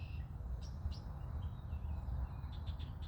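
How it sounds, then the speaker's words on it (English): Birds sing outdoors in a neighborhood on a cool morning, with scattered faint chirps and short calls rising over a steady low rumble of background noise, fairly distant and with no talking. "Lots of birds singing out here in the neighborhood"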